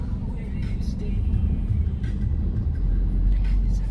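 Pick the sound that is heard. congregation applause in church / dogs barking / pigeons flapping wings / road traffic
road traffic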